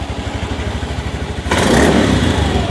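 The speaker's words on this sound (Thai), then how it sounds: "เดี๋ยวลองเบิ้ลกันสักนิดนึงนะว่าเสียงท่อเดิมเป็นยังไงกันบ้างนะครับ" A used 2020 Honda Scoopy i top-model scooter on its stock exhaust idles with a steady, close, pulsing putter, then the throttle is blipped and the engine revs up into a louder, fuller drone before easing slightly, with no talk.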